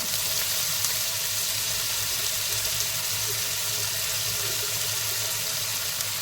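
Garlic sizzles steadily in hot oil in a pan while a prawn rice ball soup is cooked, a loud continuous hiss with no pauses and no talking.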